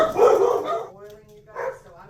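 A dog barks at someone arriving at the door, a loud burst of barking at the start followed by a softer second bark, with household noise around it.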